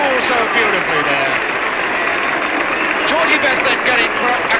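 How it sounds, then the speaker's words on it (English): Crowd applause and cheering for George Best scoring the second goal, a dense steady roar of clapping that fills the whole stretch with a distant commentator voice underneath. "Georgie Best then getting a crowd applause from his own players as he scores the second goal."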